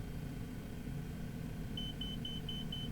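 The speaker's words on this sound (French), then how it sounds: "On a l'avertisseur" An ultralight's stall warning horn in Microsoft Flight Simulator 2020 sounds as a rapid series of short, evenly spaced high beeps over the steady low rumble of the small engine and airflow.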